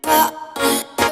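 Layered piano and super saw synths combined with vocal chops in an electronic track, three dense, bright sustained chord hits in quick succession, loud and without speech.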